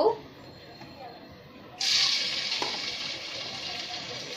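A sudden loud sizzle bursts out as ginger-garlic paste hits hot mustard oil in a wok, then settles into a steady crackling fry with faint background sounds before it.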